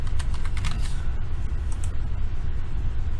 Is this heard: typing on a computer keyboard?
yes